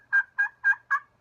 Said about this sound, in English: Next is the common striker and slate call.